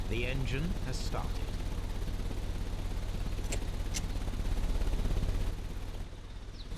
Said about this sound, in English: The ventilation system is working.